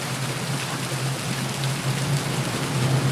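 An organic ocean pad built on an MPC from a field recording, heard as a continuous wash of broadband noise over a steady low hum, alone and unbroken.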